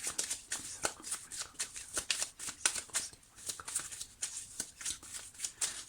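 A deck of tarot cards being shuffled and drawn, close and crisp, with a rapid flutter of cards and repeated snapping and riffling bursts and no talking.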